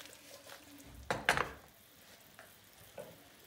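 A pan of frying tomatoes, peppers and chicken is given a quick shake: a short clattering, sizzling burst in the middle, with faint cooking noise and a couple of small knocks before and after.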